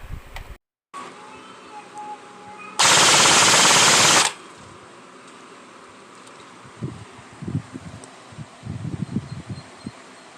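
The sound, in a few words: Delta Airsoft M4 RIS airsoft gun firing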